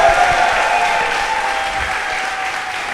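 A live audience bursts into sustained, loud applause, dense clapping and some cheering that fills the room and slowly tapers.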